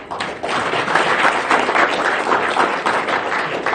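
Applause from an audience at a business seminar in New York, a sustained burst of many hands clapping that swells quickly and holds steady throughout, fairly loud and close, with no talking over it.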